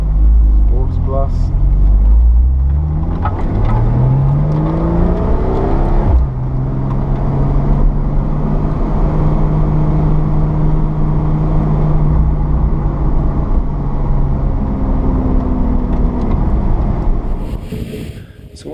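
A Porsche Cayman S sports car engine pulls hard, its note rising in steady revving sweeps, loud and close with a continuous cabin rumble underneath.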